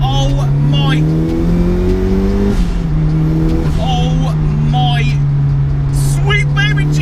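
A 300bhp turbocharged Mazda MX5 engine revs hard and climbs in pitch, drops briefly at a gear change, then pulls again, loud and close inside the car, with excited voices shouting over it.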